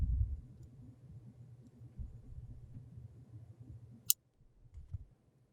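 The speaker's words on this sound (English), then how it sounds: "We're going to go ahead and cut the tail" Wire cutters snip the wire tail of a wrapped bead with one sharp, quiet click, set in near silence over a faint low hum.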